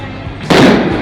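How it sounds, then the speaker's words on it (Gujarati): A sudden loud burst of firecrackers halfway through a Maha Shivratri procession in Vadodara, breaking into sustained crackling noise that carries to the end over a low outdoor background rumble. "જો ફટાકિયા ફૂટે છે,"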